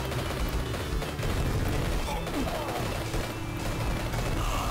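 Dense, continuous video game gunfire and explosions from the Metal Dragon demo on the Sega Mega Drive, with loud overlapping shots and booms filling the whole stretch without a break.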